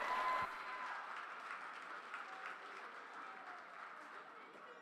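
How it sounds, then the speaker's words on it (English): An audience claps at a youth fair beef breeding cattle show, a sustained ripple of applause from a moderate crowd heard at some distance, fading slightly toward the end, with no voices over it. "Let's give them all a round of applause."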